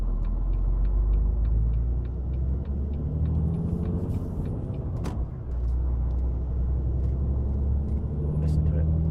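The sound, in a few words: Volvo FH16 750 hp truck engine accelerating at full throttle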